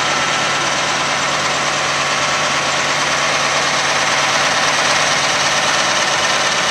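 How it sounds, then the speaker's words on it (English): A John Deere 4560 tractor engine idles at an auction, a steady, even diesel rumble with a constant hiss, loud and close throughout with no talking. "Again, that's the John Deere 4560."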